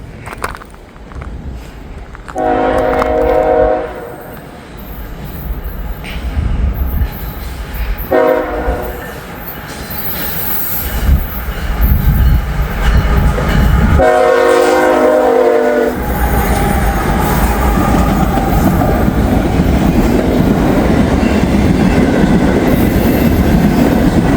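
A CSX freight train passes close by, a loud continuous rumble and rolling roar of wagons with several blasts of the horn early on.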